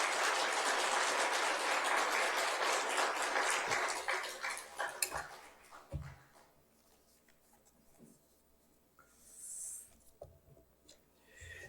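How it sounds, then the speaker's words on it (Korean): A church congregation applauds to welcome a speaker. The clapping is loud for about five seconds, then quickly dies away into quiet room sounds with a few faint knocks and rustles. "큰 환영의 박수로 한번 크게 박수하겠습니다."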